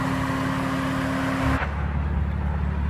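A BMW M4 engine idles with a steady hum, then cuts off abruptly partway through, leaving a quieter low residual rumble behind.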